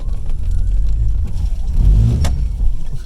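Vehicle engine labouring in double low range with heavy vibration, a loud, steady low rumble that swells briefly in the middle, with no talk.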